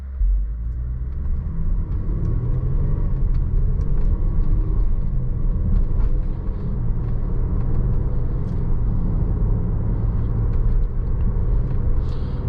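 A 2016 Range Rover Sport HSE on the move, its engine a steady low rumble blended with road and tire noise heard from inside the cabin, smooth and continuous without revving.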